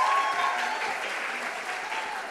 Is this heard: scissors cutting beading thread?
no